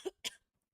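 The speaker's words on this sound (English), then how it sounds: "cough" A single person coughs twice in quick succession, a short sharp burst followed by a second louder one, close and clear with no talk, then silence.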